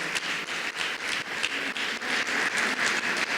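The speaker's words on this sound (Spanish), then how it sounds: "le puede dar un mejor aplauso al Señor" A church congregation claps in a quick, rhythmic unison beat, each clap a distinct pulse, loud and close, in a short burst of praise applause without speech.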